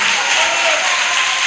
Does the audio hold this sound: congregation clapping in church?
yes